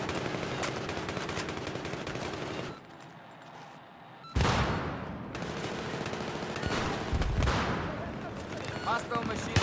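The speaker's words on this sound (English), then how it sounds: "Hostile machine gun reported." Heavy automatic gunfire in Battlefield 3 on PC: dense, loud bursts of machine-gun fire that break off briefly in the middle, then resume sharply and keep rattling to the end.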